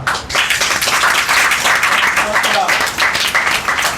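A church congregation claps together for mothers on Mother's Day, a dense, sustained burst of applause filling the hall, close and loud, with voices mixed in.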